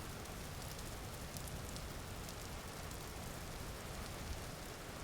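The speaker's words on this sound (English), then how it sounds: "So it is raining" Steady rain in the video game Vintage Story, a dense, even hiss of falling drops that continues unbroken with no voices.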